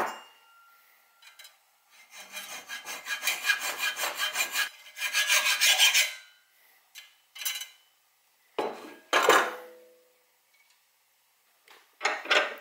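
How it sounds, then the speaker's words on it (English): A small retaining ring is cut off a spark plug in short rasping, scraping strokes, a rhythmic run of close sawing followed by separate brief bursts with quiet gaps between. "we're going to start by cutting this little retaining ring off of the spark plug"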